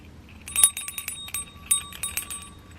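Rustic IKEA bell ornaments for a Christmas tree ring in quick jingling clusters, bright metallic tinkles close by against a quiet background.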